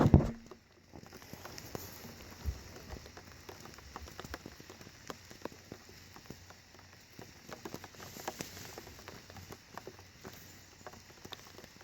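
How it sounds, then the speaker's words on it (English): Rain falls steadily on a tent at a riverside camp, a dense, even patter of drops striking the fabric nearby, with no voices present. "So this is getting interesting with the rain coming down."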